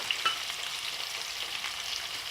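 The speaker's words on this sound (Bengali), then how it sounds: "একটু ভাজবো এগুলো।" Ingredients for a mustard-paste fish dish fry in a pan with a steady, even close sizzle and faint crackle throughout, no voices.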